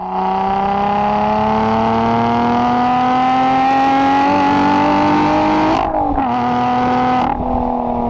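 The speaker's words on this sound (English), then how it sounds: "its engine was a supercharged V6 from the Toyota Camry, and it sounded incredible" A Lotus sports car's supercharged Toyota V6 revs loudly and steadily, pitch climbing over several seconds, then drops sharply twice as the throttle blips before settling.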